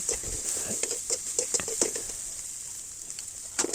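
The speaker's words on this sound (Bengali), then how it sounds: "কিছু পেঁয়াজ ভেজে নিব" Onions frying in a pan for a taro leaf (kochu shak) bhorta, with a steady sizzle and scattered stirring clicks and scrapes, moderately close, no talk.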